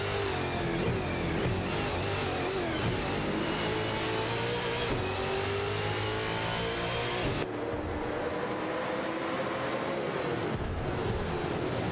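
Racing cars in a video game roar continuously, engines revving and shifting pitch as several pass close by, with a steady dense layer of motor noise throughout and no talking.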